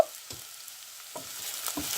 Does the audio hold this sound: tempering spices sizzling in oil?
yes